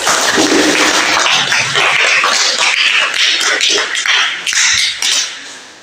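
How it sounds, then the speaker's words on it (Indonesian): An Indonesian classroom claps for a student after a presentation, a brief burst of scattered, overlapping hand claps close by that stays fairly loud and then thins out. "Tepuk tangan untuk Rido"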